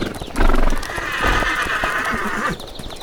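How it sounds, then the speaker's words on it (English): A horse whinnies loudly in a Western setting, its stretched, wavering neigh lasting about two seconds, with some hoof clip-clop and rustling around it. "They better not be hurting my horse."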